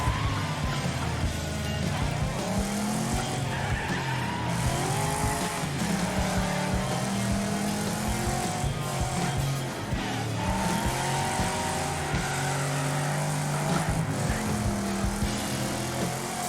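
Race cars in the demolition racing game Wreckfest, several engines roaring and revving together with tire squeals and skids, loud and continuous throughout, with a voice faintly audible underneath.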